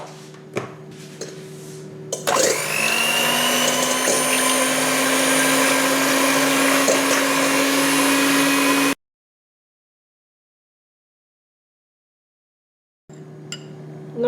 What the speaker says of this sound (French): pour les blancs d'œufs, il faut les monter en neige